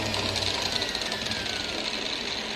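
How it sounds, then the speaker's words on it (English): Rupes LHR21 Mark III polisher from 2019 whirring steadily and close, a continuous high-pitched motor hum with a faint descending whine as it is braked, no voices. "When the machine is rotating like this, and you'll put it on the brake,"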